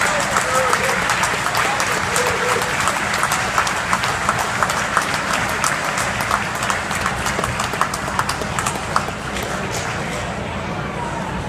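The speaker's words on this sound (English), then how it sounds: "A very well-deserved round of applause." An audience at a Volksfest community celebration gives a long round of applause for a Distinguished Service Award recipient: steady, crowded clapping with crisp individual claps standing out, a little murmur of voices underneath, tapering slightly at the end.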